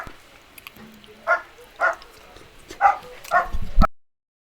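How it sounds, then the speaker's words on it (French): A dog barks in five separate loud bursts, each about half a second apart, with the last bark trailing into a brief clatter. The room is otherwise quiet and no one speaks. "On va entendre mon chien aboyer beaucoup parce que je sais pas pourquoi il est excité."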